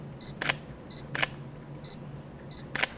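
Sony Alpha A7C shutter firing four times at a steady pace, each crisp mechanical click preceded by a short electronic focus-confirm beep, close and alone in a quiet room.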